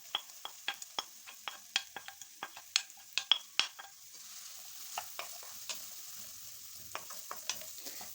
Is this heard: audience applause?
no